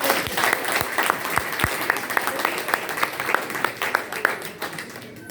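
A church congregation applauds during a French-language service with steady, dense clapping from many hands close by, dipping slightly near the end.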